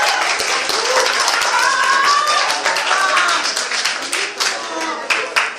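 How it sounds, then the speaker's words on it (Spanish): Loud, close applause from an audience for a contestant at a school essay competition, dense clapping with some distinct sharp hand claps and a few voices mixed in. "Un fuerte aplauso para ella"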